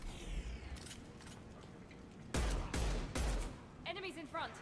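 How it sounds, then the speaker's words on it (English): Hand cannon pistol fire in Mass Effect 2 amid a loud battle: heavy, booming shots in a couple of close clusters over constant combat noise, with brief voices near the end. "Let's use the hand cannon."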